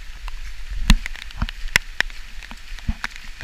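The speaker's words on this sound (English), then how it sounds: "Nothing like getting rained out." Rain on a hiking trail at Jack's River, scattered drops pattering irregularly on nearby surfaces, faint and close, with no voices.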